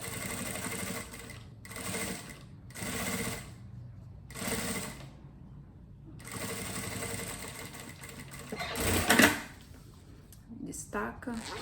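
Domestic sewing machine set to its longest stitch length of 5, stitching a zippered pouch in short runs of steady whirring, stopping and starting several times, close and clear.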